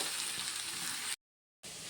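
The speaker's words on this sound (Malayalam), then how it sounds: "എന്നിട്ട് നന്നായി ഒന്ന് ഇളക്കി ഒന്ന് വഴറ്റിയെടുക്കണം" A mango and ginger pickle mixture sizzling as it is stirred and sautéed in a pan, a steady close frying hiss that cuts out briefly and then resumes.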